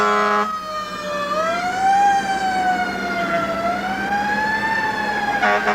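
Loud wailing siren from North Reading Engine 7 at a town anniversary parade, rising and falling in slow, tuneful sweeps up close over a rumbling engine.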